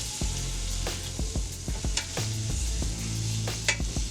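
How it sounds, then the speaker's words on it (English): A Cornish hen sears in butter inside a pressure cooker, a loud close sizzle and hiss with occasional pops and scraping stir noises, no voices. "that one's taking a pretty good sear here"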